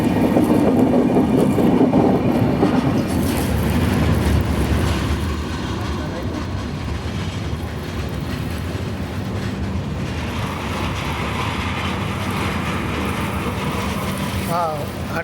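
Gitanjali SF Express passenger train running on rails, a loud continuous rumble with rail clatter throughout, steady and close, slightly easing after the first few seconds.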